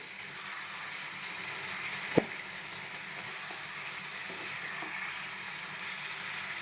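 Village-style chicken fry sizzling in a pan, a steady, even frying hiss that runs throughout at moderate volume, with one sharp click or tap near the start and no talking.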